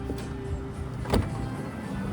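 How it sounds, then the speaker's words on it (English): A 2011 Toyota Sienna XLE minivan's power window motor whirs in a steady, close hum inside the cabin, with a short bump in loudness partway through. "Power windows, locks and mirrors."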